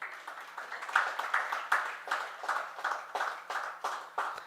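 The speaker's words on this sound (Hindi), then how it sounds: "ताली तो हो जाती अच्छी बात पे।" An audience claps in a series of bursts at a Jain community gathering, each round of applause swelling and fading roughly every half second, close and moderately loud with no voices over it.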